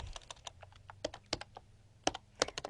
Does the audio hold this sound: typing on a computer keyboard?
yes